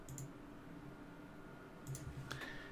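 Two quiet mouse clicks on a preview button in coin-collection management software, short and close, heard alone against faint room hiss.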